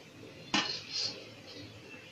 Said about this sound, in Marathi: हे झाकण मारूया.